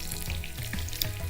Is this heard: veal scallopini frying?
yes